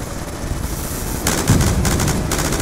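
Sustained automatic gunfire in the video game Call of Duty: Black Ops 2, a dense loud burst of rapid shots kicking in partway through over a constant noisy game background.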